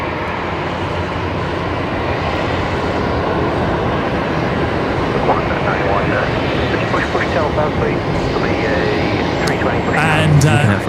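A Dash 8 turboprop at Brisbane Airport drones steadily in a broad, loud roar with a rising whine toward the end, as people talk over it.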